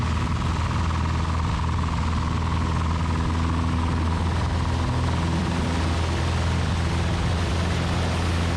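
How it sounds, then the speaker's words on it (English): A propeller aircraft at full takeoff power, heard from a position riding on the engine cowling: a loud, steady engine and propeller drone with strong low harmonics, unbroken throughout with no talk. "We line up on the center line, and go to full power. Listen to that propeller bite the air."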